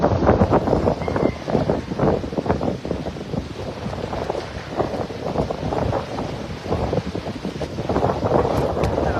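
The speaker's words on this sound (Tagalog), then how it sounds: "sobrang lakas ng hangin" Strong wind buffets the microphone with a constant, loud roaring rush that surges and gusts throughout, and nothing else stands out.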